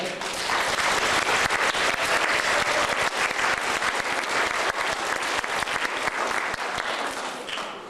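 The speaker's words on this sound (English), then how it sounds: "please give yourselves a round of applause" Students applauding themselves at a school gathering, a thick, continuous wash of clapping from a large group that stays loud throughout and tapers a little near the end.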